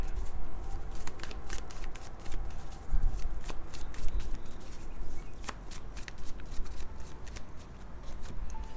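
A deck of tarot cards is shuffled close by in a quick, continuous riffle of papery flicks and slaps. The flicks come in uneven bursts with no talking.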